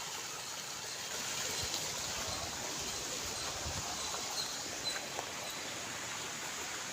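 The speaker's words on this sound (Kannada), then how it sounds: "ನೋಡಿ ನೀರು ನೋಡಿ ಹೆಂಗೆ ಬರ್ತೈತೆ," Water flows and gushes steadily on a coconut and areca nut farm, a faint, continuous outdoor rush with a few soft knocks and rustles; no voices.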